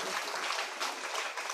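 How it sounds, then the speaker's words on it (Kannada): Loud, sustained applause from an audience at a temple religious discourse gathering, a dense wash of clapping that stays steady throughout. "ಅವರಿಗೊಂದ್ಸಲ ಜೋರಾದ ಚಪ್ಪಾಳೆ ಬರಬೇಕು"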